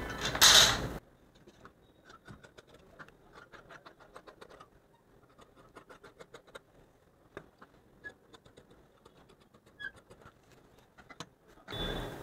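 Scissors snip through blouse fabric in a quiet indoor sewing setting, a series of light, crisp clicks and creaks coming in irregular bursts, close and faint, bracketed by short louder rustles at start and end.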